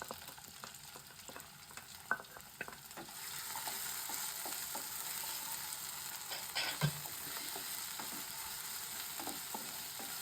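Sliced onions fry in a little oil used with rohu fish and fenugreek, a soft steady sizzle with a few spatula taps and scrapes, growing slightly louder after the first few seconds; no one speaks.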